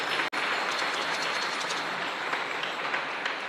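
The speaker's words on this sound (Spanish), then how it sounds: "Un fuerte aplauso a todos ustedes" A congregation at a Catholic Mass honoring the Virgin of Caacupé breaks into strong, continuous applause, a dense roar of clapping that fills the church, loud and steady, with one brief dropout near the start.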